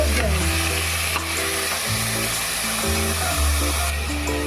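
Chicken sizzles and crackles steadily in a hot pan while being stirred, with scraping and shifting through the dense frying noise; no one talks.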